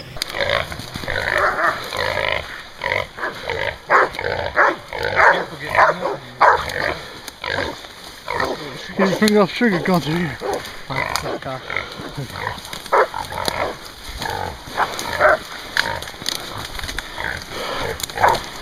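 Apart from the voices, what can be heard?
hunting dogs barking and growling at a wild hog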